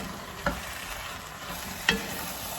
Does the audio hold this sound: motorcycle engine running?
no